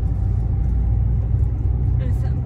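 A Chevrolet Lacetti's engine drones steadily from inside the car during a driving lesson, a continuous low rumble with road noise and no clear rev peaks, steady and close throughout.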